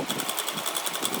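A sewing machine runs in one steady burst of rapid, even stitching as a doll dress is sewn, close and alone with no talk.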